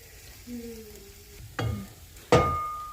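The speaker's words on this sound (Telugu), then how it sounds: "ఇప్పుడు పోపు వేసాను" Tempering spices hit hot oil over a finished raw banana curry: two sharp, loud sizzling bursts, each flaring and slowly fading, over a low background of faint kitchen noise.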